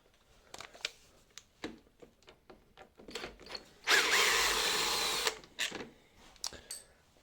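A power drill whirs for about a second and a half while removing a window fixing screw, surrounded by scattered clicks and knocks of handling the window hardware; no talking.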